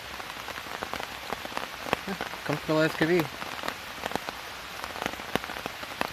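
Heavy rain drums steadily on a tent, a dense close patter of drops throughout, while someone speaks briefly partway through over the downpour.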